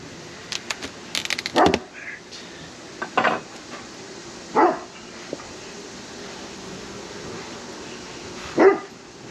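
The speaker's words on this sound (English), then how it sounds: "Wonder how much her bark can be picked up by the mic" A dog barks several times in short bursts, spaced a few seconds apart, moderately close, over a quiet background with faint clinks of dishes between barks.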